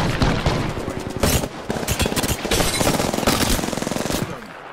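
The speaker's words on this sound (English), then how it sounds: "I am taking fire" Rapid automatic gunfire from an Apex Legends firefight, loud and dense bursts with heavy booming shots crackling almost continuously through the whole stretch.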